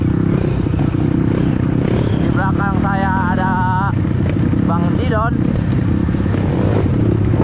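Dirt motorcycle revving hard during a night trail ride, ridden by someone, its loud engine roar filling the clip with rising and falling whines while people talk over it.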